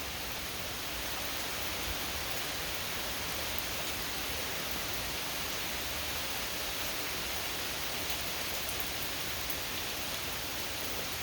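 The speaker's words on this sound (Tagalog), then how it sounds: "5 minutes na malakas na ulan." Heavy rain pours steadily through woodland, a dense, unbroken hiss of drops that stays loud and even from start to finish with no voices.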